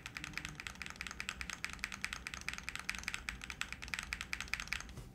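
Rapid keystrokes on the bottom row of an XOX70 mechanical keyboard clack in a steady, quick rhythm, close and crisp, with no voices.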